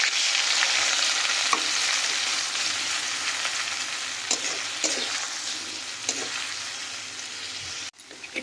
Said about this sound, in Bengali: এখানে পেঁয়াজটা খুব ভালোভাবে ভাজা হয়ে গেছে